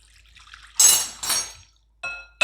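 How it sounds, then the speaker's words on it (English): Hot water poured into a glass bowl in a home kitchen, two close splashing pours followed by shorter splashes and drips after a quiet start. "putting the hot water inside the glass bowl"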